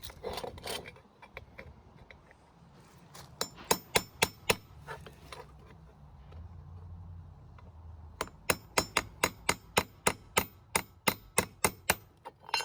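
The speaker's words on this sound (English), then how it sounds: "you just take a little chisel or whatever, and usually you can pop them" A small chisel pries apart stair railing parts, producing a run of sharp, evenly spaced wooden and metal taps that grow steady and rhythmic toward the end, close and clear with no talk.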